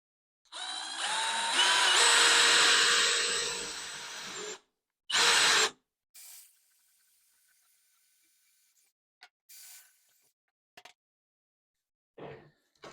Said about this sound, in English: And then a 1/2 inch drill bit.